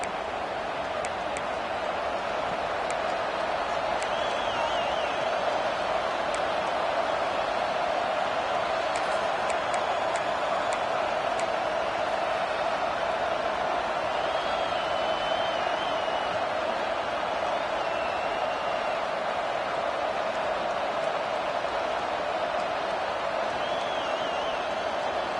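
A football stadium crowd roars as a steady, dense wall of noise that holds unbroken throughout, loud and continuous with no distinct voices standing out.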